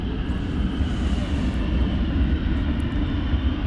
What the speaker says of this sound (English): Qatar plane, of course, going back to Doha